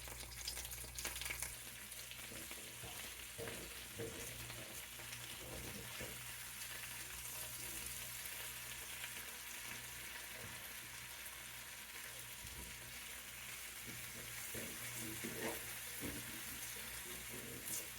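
Potatoes for a Spanish tortilla fry in a regular skillet with a steady, close sizzle, broken by occasional soft stirring scrapes and no talk.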